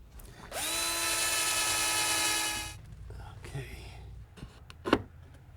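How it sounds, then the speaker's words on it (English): A power drill drilling pilot holes in wood whirs at a steady pitch for about two seconds, then stops, followed by light handling clatter and a sharp knock. "Let's just drill a couple pilot holes here now."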